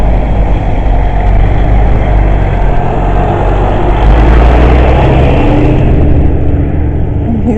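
A truck drives by on a cold, windy street in Iceland, its loud, low engine rumble steady and close, swelling slightly about halfway through, with no talk.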